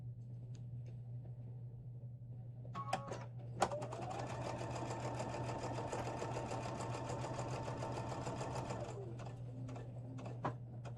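A sewing machine stitches steadily for about six seconds, running at a continuous even buzz after a few brief clicks and starts, then slowing and stopping; no voices.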